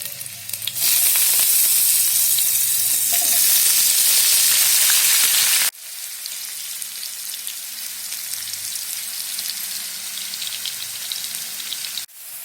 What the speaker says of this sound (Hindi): सूरन को दोनों बाजू से अच्छे से शैलो फ्राई करेंगे।